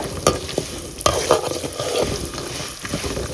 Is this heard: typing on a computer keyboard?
no